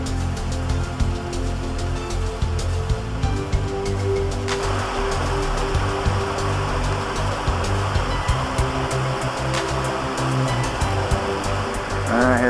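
The Suiattle River flowing at a wide bridge crossing in northern Washington, a continuous broad rushing roar of water heard up close and steady throughout, with a constant tonal drone underneath.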